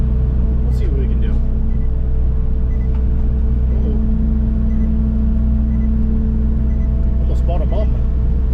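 A power sweeper truck drives around to the back of a lot, its engine a loud, steady low rumble throughout with a constant hum, and brief faint higher noises here and there.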